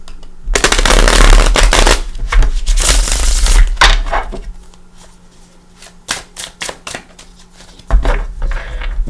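Loud riffling and snapping of a Gilded Tarot deck being shuffled, in several bursts with brief quieter gaps of soft handling in between.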